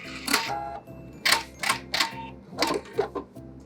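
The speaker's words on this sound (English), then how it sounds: "I'm going to make sure I back stitch at the beginning and the end of my seam" A sewing machine back stitches a fabric seam in short bursts of quick mechanical stitching, several brief runs separated by pauses, close and clear.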